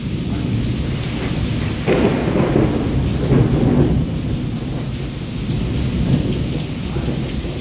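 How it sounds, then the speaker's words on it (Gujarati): Torrential rain pours loudly and steadily during a windy Wankaner thunderstorm, with deep thunder rumbles swelling briefly a few times. "સતત વરસાદ ચાલુ છે વીજળી થાય છે પવન ચાલુ છે"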